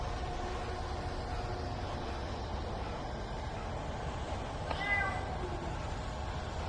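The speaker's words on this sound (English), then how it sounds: "there is a really considerable amount of meowing on here" A house cat lets out a single short, faint meow over a steady background hum.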